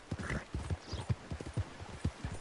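Horse hooves clip-clop at a steady walking rhythm in Red Dead Online, close and moderately loud, with no other sounds over them.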